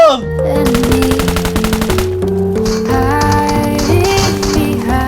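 Rapid automatic fire from a Honey Badger rifle in the PUBG Mobile video game rattles loud and close in quick bursts, layered over steady musical tones.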